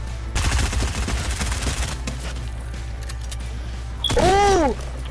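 Gunfire in the video game Fortnite comes as a dense burst of rapid shots up close, followed later by a brief sweeping electronic effect.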